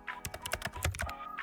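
Rapid keyboard typing in the video game A Date with Death: Beyond the Bet, a close run of quick clicky keystrokes, steady and uneven in rhythm, with no voices.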